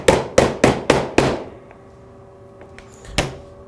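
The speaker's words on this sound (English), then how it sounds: "take your soft mallet and tap it down into to where it snaps in place" A soft mallet taps vinyl brickmold down into the window frame kerf until it snaps in place: five sharp, close knocks in quick succession, a pause with faint ringing, then two more taps.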